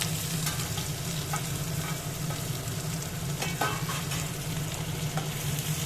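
Chopped onions frying with whole cumin seeds in hot oil, giving a steady, close sizzle with occasional stirring clinks and scrapes throughout, no voices.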